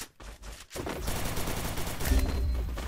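Gunfire in a shooting video game, with a few quick shots followed by a sustained rattle of rapid automatic fire, loud and dense.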